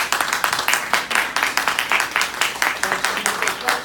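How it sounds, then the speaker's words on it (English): A small audience claps for school board candidates after a forum; individual hand claps stand out in a quick, fairly close rhythm, sparse enough that single claps are distinct. "I think they deserve a round of applause."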